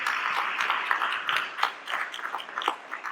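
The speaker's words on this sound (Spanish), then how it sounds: "Dele fuerte el aplauso al Señor." A congregation applauding during a Spanish-language church sermon: a dense, fairly quiet patter of many hands clapping, steady for about three seconds with slight swells.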